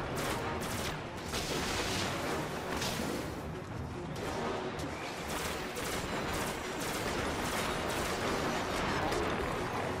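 Rapid gunfire aimed at a boss in the video game Destiny rattles continuously through the whole stretch, a dense steady barrage with sharp bursts, while a voice talks over it.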